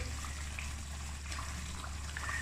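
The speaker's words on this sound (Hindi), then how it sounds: "अब थोड़ा सा पानी डाल के और इस ग्रेवी को पकने के लिए छोड़ देंगे" Water trickles softly into egg curry gravy in a pan, a faint, steady pour with light splashing over a low hum, with no talk.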